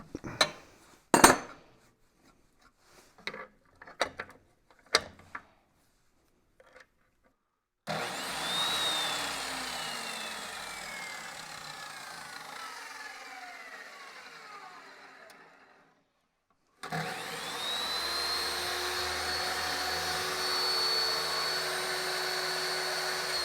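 A chop saw fitted with a Diablo 10-inch metal cutoff wheel cuts metal for a trailer rebuild. A few sharp clicks come first, then two long, loud runs of steady grinding whine with a short break between them.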